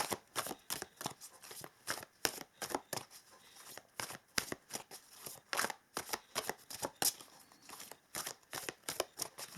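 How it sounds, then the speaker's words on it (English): Oracle cards being shuffled by hand, a steady run of quick papery riffles and flicks with short pauses between bursts, close and fairly quiet, with no talking. "let us pull some oracle cards here to see what they have to tell us first"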